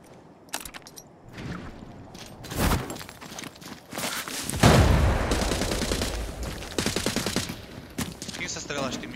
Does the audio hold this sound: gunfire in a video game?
yes